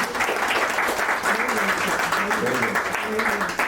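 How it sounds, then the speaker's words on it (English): An audience applauds the author Vani Tripathi Tikoo at the close of her talk, a steady, dense wash of many hands clapping at once that holds evenly throughout, filling the room. "A round of applause for Vani."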